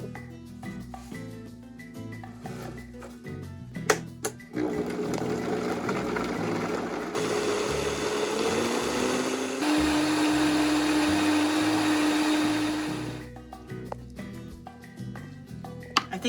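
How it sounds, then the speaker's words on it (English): A small Vitamix blender pureeing tomatoes and herbs for sofrito: a loud, steady whirring roar that rises in pitch as it runs for several seconds, starting and stopping sharply between quieter kitchen clatter. "veggies will not fit into this little Vitamix. So I'm going to take tomatoes and some of the herbs and blend those"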